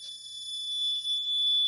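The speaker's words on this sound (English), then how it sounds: "all the LEDs light up and blinking and the buzzer is louder" Piezo buzzer on an automotive electronic distance sensor project, sounding a steady high-pitched tone at close range when an object is under 5 cm away, loud and continuous with no talk.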